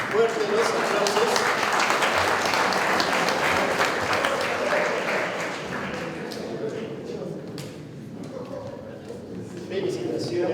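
A crowd at a motorcycle and vehicle mechanics graduation applauds the students, dense continuous clapping for about ten seconds that eases slightly toward the end, with some talking mixed in.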